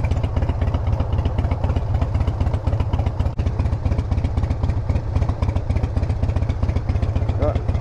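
A Harley-Davidson motorcycle engine thumps in Melbourne traffic with a steady, rapid loping pulse, close and prominent throughout, with a few small clatters mixed in.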